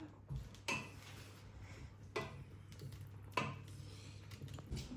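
Green chilies tossed into an Angamaly-style mango curry in a pan and stirred, with three or four sharp spoon-on-metal clanks spaced a second or so apart over a low steady hum.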